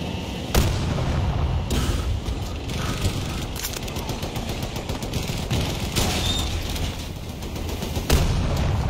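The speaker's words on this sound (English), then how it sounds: "I see a tank trying to shoot it" A tank in Battlefield 2042 fires its cannon: several heavy booming shots at irregular intervals over a steady din of gunfire and battlefield rumble, with occasional faint voices.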